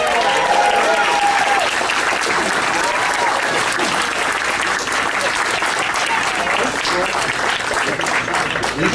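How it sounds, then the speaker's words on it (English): A convention audience applauds actor Scott Wilson at the Chiller Theatre Expo, with a steady, dense wash of clapping held loudly and evenly for the whole stretch, no voices standing out. "Scott Wilson is here, so let's give Scott a big round of applause"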